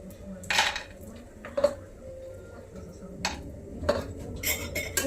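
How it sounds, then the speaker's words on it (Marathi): Almonds and pistachios roasting in ghee in a pan, with quiet, intermittent clinks and scrapes of a utensil stirring against the metal and soft background noise between the strikes. "थोडा पिस्ताही त्यातच भाजून घेऊयात बदामासोबत"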